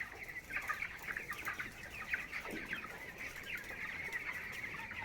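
Many young broiler chickens, about twenty days old, cluck and chirp together steadily in a winter poultry shed, a dense continuous flock chatter at moderate distance with no talk.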